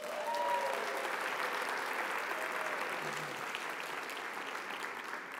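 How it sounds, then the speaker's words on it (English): An audience at a fall college convocation applauds, with steady, dense clapping throughout and a faint voice briefly at the start. "please give a round of applause to Board President Pamela Haynes"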